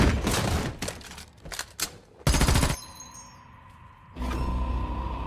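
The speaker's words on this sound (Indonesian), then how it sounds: "Paul sempat terkena tembakan di lengannya." Gunfire in a film shootout, a man hit in the arm before firing back: several sharp, loud shots in quick bursts, with a heavy blast near the middle, a quieter ringing pause, then more noise.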